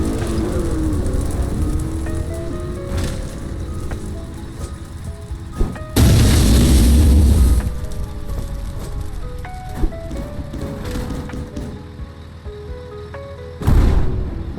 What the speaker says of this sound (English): Let's see how strong this tank cannon is against the enemy.